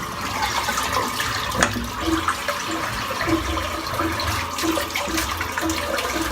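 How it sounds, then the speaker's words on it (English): Tap water runs into a bathroom sink to rinse out shaved head hair, a steady close splashing stream that continues evenly throughout. "Sink is just full of hair. I'm just going to rinse that out now"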